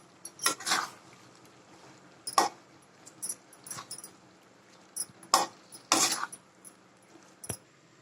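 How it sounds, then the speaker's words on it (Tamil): Chilli parotta being tossed and mixed in a pan over high flame, scattered metallic clanks and scrapes of a spatula against the pan in uneven bursts, close and fairly quiet, with no talking. "பரோட்டாவை நல்லா மிக்ஸ் பண்ணிக்கோங்க."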